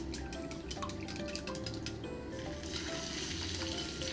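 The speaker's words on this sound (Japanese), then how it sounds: "卵焼きますよ。" Eggs frying in a pan give a continuous close sizzle with small pops and spatters, steady and moderately quiet throughout.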